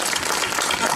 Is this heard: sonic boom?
no